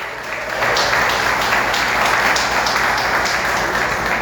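Church congregation claps together during a sermon, a dense rhythmic wash of applause swelling after a brief start and holding steady, loud and close.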